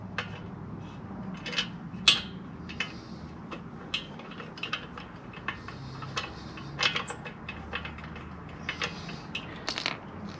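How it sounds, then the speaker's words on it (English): Small screws are fitted and turned back into a recalled Lectric e-bike brake, producing faint scattered metallic clicks and ticks at irregular intervals over a quiet background. "Now, put the screws into place."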